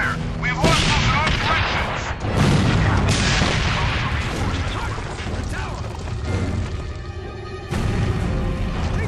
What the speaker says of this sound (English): Ground units are taking heavy fire.